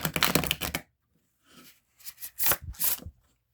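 An oracle card deck is shuffled by hand in short bursts, crisp riffling and snapping of cards close up, with a brief pause before several quick shuffles follow.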